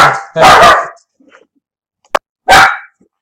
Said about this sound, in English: The dog is barking at someone walking by outside.